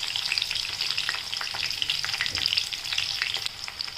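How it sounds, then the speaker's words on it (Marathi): Green chilies and garlic fry in hot oil for a Hakka noodle dish, giving a close, steady crackling sizzle with scattered pops and light stirring, no voices. "पहिले तेल तापलं की लसूण टाकूया आपण। आता मिरच्या टाकूया आपण"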